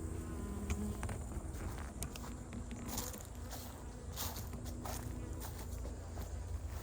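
Honey bees buzz steadily around a crowded hive, a dense close-range drone with scattered individual insects darting past, continuous and fairly loud throughout with no talking.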